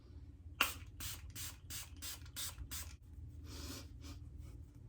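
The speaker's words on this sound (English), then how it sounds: "Milani Make It Last setting spray, which is awesome." Several quick hissing bursts of a Milani Make It Last makeup setting spray, about seven short close sprays in an uneven rhythm followed by a couple of longer softer puffs, with no talking.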